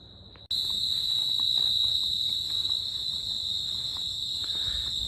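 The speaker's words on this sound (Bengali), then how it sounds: "এই যে রাতের সময় এই ঝিঝি পোকার এই শব্দগুলোর জন্য মানে আমার এত ভালো লাগে" Crickets chirp at night at Shuktara Nature Retreat, an eco resort near Sylhet, a dense steady high-pitched trill that starts abruptly and then continues unbroken, close and fairly loud with no voices.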